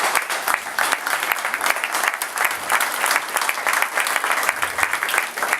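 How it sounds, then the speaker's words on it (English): An audience gives a lively round of applause at a community gathering. Dense, crackling clapping continues through the whole stretch with a slightly uneven pulse and no speech over it. "So give yourself a clap for that."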